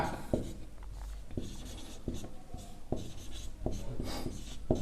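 Pen or chalk scratches out a maths formula with short, irregular strokes and taps, close and fairly clear, with no talking over it.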